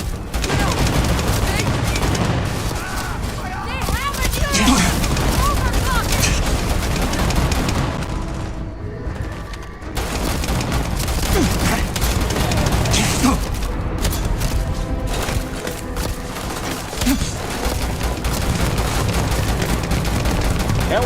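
Gunfire during a firefight in the video game Starfield, a dense, continuous barrage of shots and booms lasting throughout, loud and close, with game character voices talking over it.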